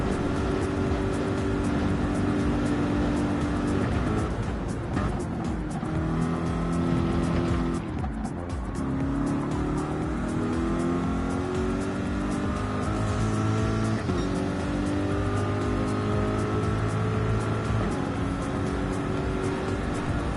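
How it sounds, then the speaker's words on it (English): A Chevrolet Corvette V8 race car roars steadily at Le Mans in a racing video game, the engine note climbing and shifting through gears with one brief dip, loud and continuous throughout with no talking. "I think we can all agree that the Corvette is a really nice sounding car"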